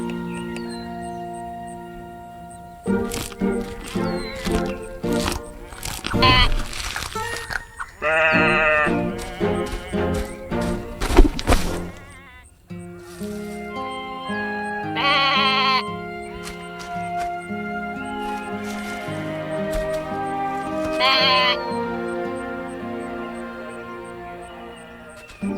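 Sheep bleating repeatedly over a long stretch, several voices calling in turn with wavering cries, some near and loud, others softer, mixed with scattered knocks and background sounds and no talking.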